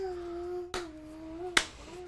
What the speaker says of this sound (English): you start hearing a clapping